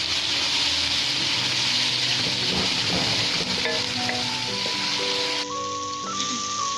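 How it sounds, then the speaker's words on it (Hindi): Two medium-sized chopped tomatoes frying in a pan, a continuous loud hiss and crackle with occasional scrapes, later joined by a soft tonal sound as the sizzle dips slightly. "अब हम इसमें 2 मीडियम साइज के कटे हुए टमाटर डालेंगे और इनके सॉफ्ट होने तक इनको अच्छे से फ्राई करेंगे।"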